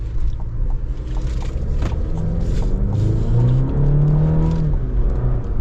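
A GMC Canyon AT4X AEV truck on 35-inch tires, its engine spooling up with a steady rising drone and whirring rumble as it accelerates, continuous and fairly loud with no talk.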